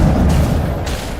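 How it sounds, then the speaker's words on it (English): Sniper rifle shot in the game Mass Effect 1 Legendary Edition, one heavy booming blast with a rumbling tail that fills the whole short moment. "I sniped the fuck out of"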